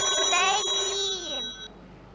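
A telephone rings with a bright, melodic electronic ringtone that plays loudly for about a second and a half, then cuts off.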